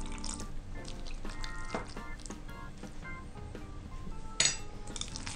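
A little water is poured into minced meat filling for belyashi in a bowl, giving soft trickling, dripping and light clinking close by with no talking.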